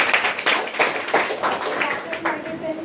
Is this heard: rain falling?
no